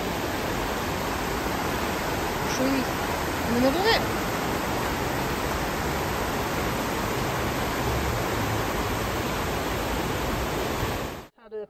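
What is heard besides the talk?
fast-flowing river water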